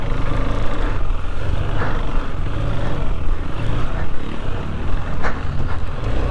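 A KTM 390 Adventure motorcycle rides off road on single track, its engine a loud, continuous close-up drone with wind buffeting the microphone.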